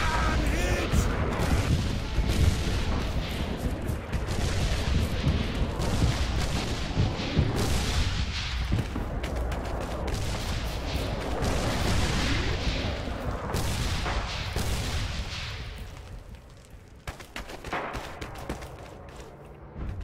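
Heavy mortar and artillery barrages in Red Orchestra 2, a dense, continuous rumble of booms and gunfire close by, with a brief voice under the din and the roar easing near the end.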